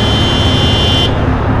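A car horn blares in one long, steady, loud tone over heavy roadway noise on a blocked-off Los Angeles street, then cuts off.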